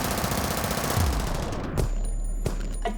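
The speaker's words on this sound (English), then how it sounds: "We want to see how many rounds this Tommy gun can throw down range in just a couple of seconds." A Thompson submachine gun fires a rapid, continuous burst at about 800 rounds per minute, loud and rattling for nearly two seconds, then a couple of single reports as the echo fades.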